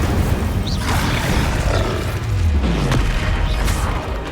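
Incendio fire spell cast in Hogwarts Legacy, a dense roaring burst of flame with low booming rumbles and whooshing sweeps, loud and continuous with game combat sounds layered throughout.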